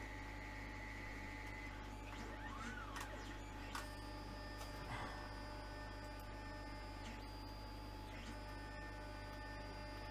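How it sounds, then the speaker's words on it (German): A printer whirs and buzzes oddly in a quiet room, a faint steady mechanical drone with a few short higher whines and clicks scattered over ten seconds, no talking. "Drucker macht komische Geräusche"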